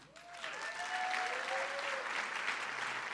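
Applause at a hockey hall of fame induction ceremony as the 2023 Girls All-State First Team is honoured: a sustained crowd clapping, rather faint and distant, with a few whistle-like tones rising early on.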